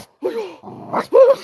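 A dog barks and yips in short excited bursts, close and fairly loud, with whiny tones between the barks and brief gaps of quiet.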